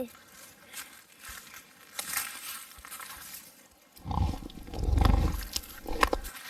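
A tiger in a forest gives a low, rumbling roar that swells in two heavy bursts near the end, following quieter rustling and background noise.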